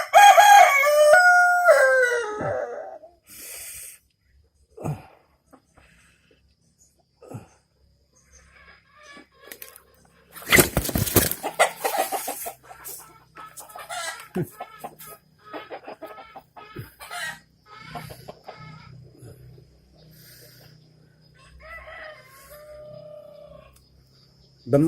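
A hen pecking at and eating a rubber band, with a loud squawk at the start and scattered soft clucks afterward, plus a sharp burst of flapping or scuffling midway and people talking nearby.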